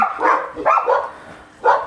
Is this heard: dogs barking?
yes